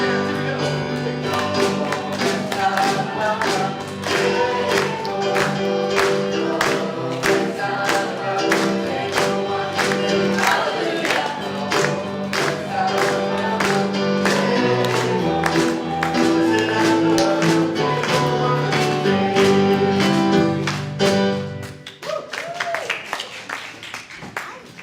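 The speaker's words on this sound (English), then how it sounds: "Nice and loud, clap your hands." An audience claps along to a live folk-style song at a community gathering, steady rhythmic handclaps over continuous singing and instruments for most of the stretch, loud and close, ending with some indistinct talk.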